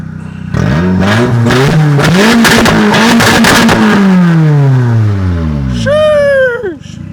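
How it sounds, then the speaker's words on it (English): A Nissan S14 with a very loud exhaust and turbo revs hard, its engine note climbing and falling over several seconds, then a sharp blip near the end. Voices react faintly underneath. "You hear the turbo?"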